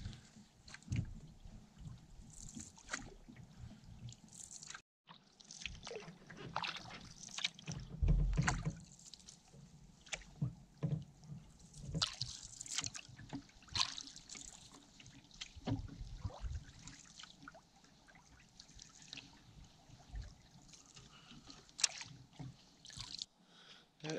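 A boat, likely a canoe or kayak, moves over misty water, with soft paddle splashes, drips and trickles at an irregular pace, close and quiet, no talking.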